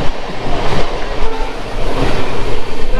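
A moving express train heard from the open coach door on the run from Sealdah to Balurghat, with loud, steady rushing wind and a rumble of wheels on the track, and no voices.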